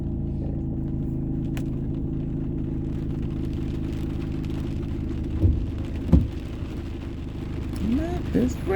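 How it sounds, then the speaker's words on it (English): Steady rain falling in a continuous soft wash, just begun, with a low rumble beneath and a few brief louder knocks and a voice near the end. "it literally just started raining"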